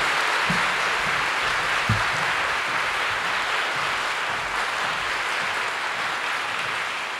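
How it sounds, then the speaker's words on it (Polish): An audience at the 2021 Witold Gombrowicz Literary Prize gala gives sustained, dense applause that holds steady and fades slightly toward the end, with no speech. "Rita, niech usłyszy nasze oklaski, proszę Państwa."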